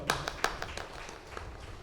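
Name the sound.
audience clapping loudly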